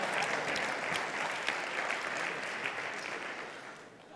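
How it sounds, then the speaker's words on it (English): An audience at a workplace safety talk breaks into applause, a dense, continuous clatter of many hands that holds steady and then fades toward the end. "Please, a round of applause."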